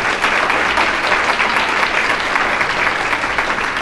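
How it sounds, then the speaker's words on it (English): Loud, dense audience applause filling an event hall, a continuous even roar of many hands clapping at once, sustained for nearly four seconds with no voices on top. "Let's give them a big round of applause."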